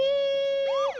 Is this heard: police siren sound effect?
yes